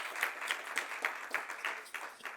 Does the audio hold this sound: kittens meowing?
no